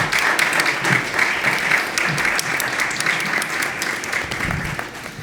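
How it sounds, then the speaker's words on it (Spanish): An audience at a literary magazine presentation breaks into steady, dense applause that holds strongly and fades slightly toward the end, with no talking over it. "Un aplauso para él, por favor."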